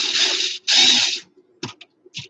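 Power drill driving a screw into an amplifier cover: two loud, close whirring bursts, then a few short clicks and a brief final buzz.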